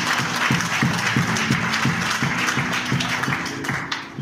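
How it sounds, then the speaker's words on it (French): A church congregation applauding in praise of Jesus, steady rhythmic clapping in unison, a roomful of hands beating a regular beat, fairly loud and sustained. "Si on aime Jésus, on l'acclame."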